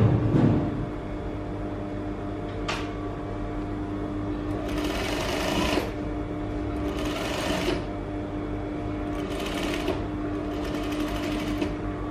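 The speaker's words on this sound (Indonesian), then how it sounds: "Pastikan anda bila dah akhirkan jahitan tu mesti matikan jahitan" Sewing machine stitching fabric for a layered-edge skirt, a steady mechanical whir under a low motor hum, broken into several short bursts of stitching with brief pauses between them.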